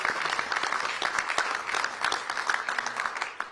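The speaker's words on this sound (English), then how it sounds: "Let's give a round of applause for that." A crowded room at a House Republicans news conference breaks into applause, a dense, even patter of many hands clapping steadily throughout.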